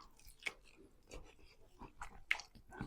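Chewing and biting into a chicken leg from biryani served on a banana leaf: quiet, close, irregular mouth sounds with a few sharper crunchy bites, no talking.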